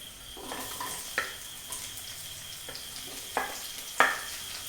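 Chopped onions fry quietly in a pan, a soft, faint hiss punctuated by a handful of sharp spatula taps against the metal at irregular intervals.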